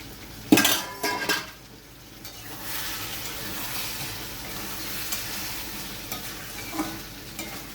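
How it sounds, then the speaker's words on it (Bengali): A pot lid is lifted with a sharp clatter, then a spatula scrapes and stirs potatoes and ridge gourd cooking in a pan over a soft steady sizzle, with a few more light metal knocks. "আবার আমি ঢাকনাটা খুলে দেখে নেব।"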